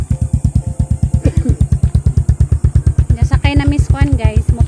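A small motorcycle's engine thumps in a fast, even putter close by for the whole stretch, with people talking and calling out over it.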